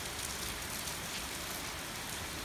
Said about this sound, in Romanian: Plouă, plouă.